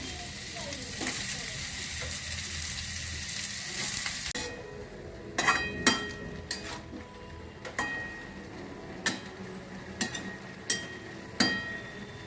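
Cabbage with green chilies sizzles in a pan, a steady hiss for the first few seconds, then quieter frying broken by sharp clinks and scrapes of a utensil stirring against the pan at irregular intervals.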